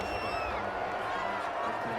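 Home crowd at a football game cheering and roaring after a referee's penalty-flag call, a dense, steady wall of crowd noise with whoops over it and a broadcaster's voice partly audible.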